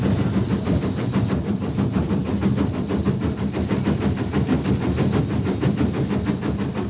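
A preserved British Rail 9F steam locomotive working hard, giving a steady, dense rush of rapid chuffing beats and hiss at close range with no voices.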